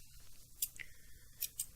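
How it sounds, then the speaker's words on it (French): Quiet, close scissor snips: one crisp cut, a short pause, then two quick snips near the end, over near silence. "Ma paire de ciseaux."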